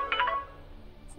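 Brief electronic phone ring tones chirp near the start, faint and short, followed by a quiet stretch and one more high beep at the end.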